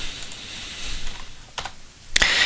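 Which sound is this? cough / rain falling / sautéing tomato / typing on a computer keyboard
typing on a computer keyboard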